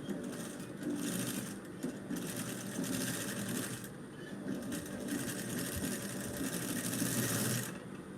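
A sewing machine stitching fabric to reinforce a seam runs in steady, rapid mechanical bursts with brief pauses, close and moderately quiet, with no talking over it.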